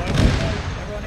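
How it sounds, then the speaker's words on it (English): Artillery rumbles in the military game Arma 3, a deep, muffled blast rolling out over a low steady drone, fairly distant and brief. "Explosions get closer."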